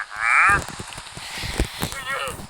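A chicken in a survival building video game gives two short honking clucks, one near the start and one near the end, with faint game sounds between them.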